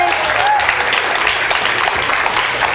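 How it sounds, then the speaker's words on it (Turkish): A studio audience at a Turkish morning television show applauds a host's arrival, a loud, dense, continuous wash of clapping that stays level throughout the few seconds. "çok değerli partnerim alkışlarınızla Profesör Doktor Osman Müftüoğlu."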